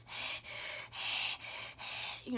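A voice imitates a sick dog's laboured breathing with four harsh, raspy gasping breaths in a slow steady rhythm, each breath close and noisy, with no words spoken.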